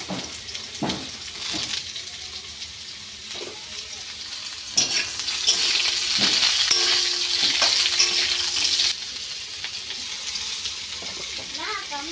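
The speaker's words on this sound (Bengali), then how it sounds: "কালো জিরা ফোড়ন হচ্ছে" Nigella seeds temper in hot oil in a home kitchen with a fairly loud, steady crackling sizzle that swells in the middle. Clanks and scraping utensil sounds come and go, and voices are faintly audible.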